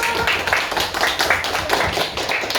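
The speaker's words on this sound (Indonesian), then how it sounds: "Kita berikan aplaus untuk kelompok 1" Primary school classroom applause for group 1, a dense burst of quick hand claps from many children, close and steady throughout.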